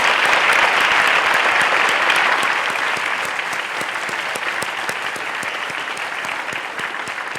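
Sustained audience applause at an opening-session awards ceremony for service plan awardees, a dense steady wash of many hands clapping that stays loud throughout and eases slightly toward the end.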